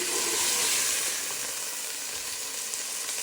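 Sesame beef meatballs sizzle steadily in a hot pan, a bright continuous frying hiss with faint crackles, close and even throughout without talk.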